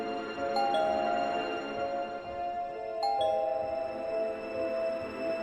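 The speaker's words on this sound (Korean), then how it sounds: "그날도 초인종이 계속해서 울렸습니다." A two-tone doorbell chimes twice, each ding-dong ringing out and fading slowly over a quiet room background.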